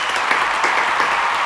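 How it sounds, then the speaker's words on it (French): An audience applauds warmly for Talia, a steady, continuous patter of many hands clapping at moderate volume with no voices over it. "Notre communauté t'applaudit"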